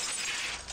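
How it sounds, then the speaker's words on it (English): Glass windows smashed with a hatchet in the Higurashi When They Cry video game, a dense, bright shattering crash that fills the whole moment, loud and close, with no voices. "I smashed all the glass windows too"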